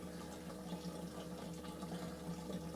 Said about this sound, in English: Right now it's draining from the passenger side tank.